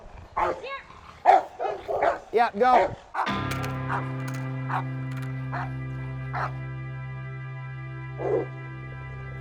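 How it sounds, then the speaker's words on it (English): A security dog gives a few sharp barks and yips during police-style bite-work training, close and loud at first, then a steady droning hum carries on underneath. A handler calls out commands over it. "A good security dog has to stop on command, even in the most extreme situations."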